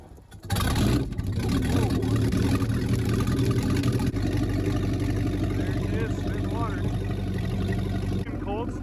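The inboard V-drive engine of a boat starts and runs steadily, a loud, deep rumbling drone close by that holds throughout, with voices faintly underneath.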